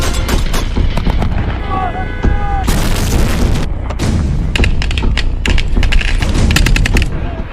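Heavy gunfire and booming blasts during a Hamas attack on Israeli army troops in Gaza, loud rapid bursts and sharp cracks crowding together, with a voice talking beneath the barrage.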